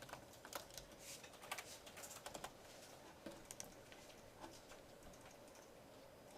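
Typing on a computer keyboard while writing a C++ program, a quick, irregular patter of light clicks in short bursts with brief pauses, fairly close and quiet, with no voices.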